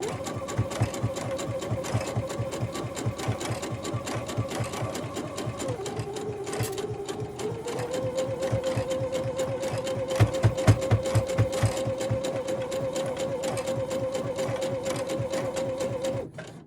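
A sewing machine stitches a hem in a steady, rapid mechanical rhythm, close and loud, with the needle's pace shifting slightly midway before running on evenly until it stops at the end.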